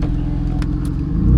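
Car accelerating with a loud, low engine rumble that builds and grows heavier toward the end, close by, with a few faint clicks over it.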